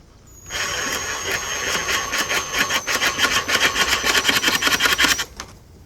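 A drill whirs steadily, then settles into a fast ratcheting rattle of rapid impacts as it drives into wood using a Kreg pocket-hole jig, loud and close, ending abruptly.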